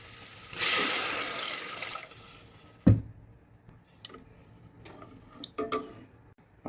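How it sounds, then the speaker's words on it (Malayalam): Water poured into a pan of simmering chicken curry makes a rushing, splashing burst for over a second, followed by a sharp clink and a few scattered soft taps and bubbles. "ആവശ്യത്തിന് കുറച്ച് വെള്ളം പോരാ"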